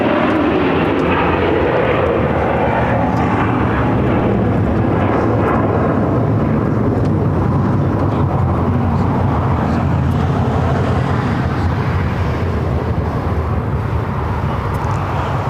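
A Qatar Airways Airbus airliner passes overhead, a loud, steady broadband engine roar that holds for the whole stretch, mixed with the hum of nearby road traffic.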